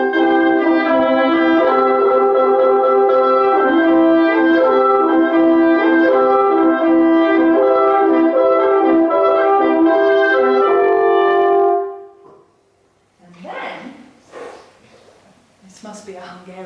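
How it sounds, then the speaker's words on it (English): Smetana's orchestral music carries hunting horn calls, sustained and loud for about twelve seconds before cutting off abruptly, then a voice speaks briefly. "you can hear the horn calls of the hunters on horseback"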